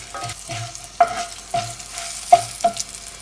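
Cumin and asafoetida fry in a pan for a bottle gourd chutney, giving a close, crackling sizzle with a spoon stirring through it in several distinct scraping strokes.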